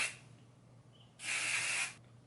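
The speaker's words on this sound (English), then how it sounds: "I'm going to spray it one more time" Hairspray is aimed at short, wavy styled hair: two bursts of aerosol hiss, a very short one and then a longer, steady one of nearly a second, both close and clear, with no talking.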